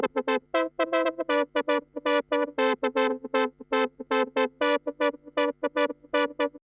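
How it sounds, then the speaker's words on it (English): A synth sequenced from a Roland MC-8 fires short rhythmic notes whose pitches shift as control voltages change. A steady bass drone sits underneath the clear, close pulse, with no voice. "as it's running along, the CVs are changing, the pitches are changing, and you're just triggering the synth rhythmically"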